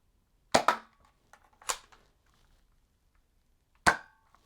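A Nerf Firestrike dart blaster fires in three sharp, dry pops with short plastic rattles after them, the first two close together and the last after a pause, close up with no talking.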